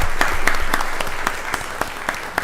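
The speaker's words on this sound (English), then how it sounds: "Let's give our DA a round of applause." A meeting audience at a county board of commissioners session breaks into a brief, dense round of applause, steady rapid clapping that tapers off slightly, with no talk over it.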